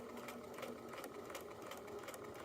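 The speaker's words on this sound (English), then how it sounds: "We'll sew 3 stitches, back stitch, sew some more." A sewing machine runs steadily, stitching fabric along a curved line with a continuous, even mechanical whir close by and no talking.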